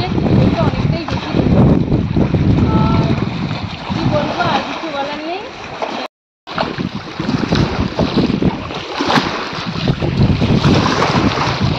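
Strong wind buffets the microphone as a boat rides high waves on the Matla river, with splashing water throughout, a brief dropout near the middle, and voices talking over it.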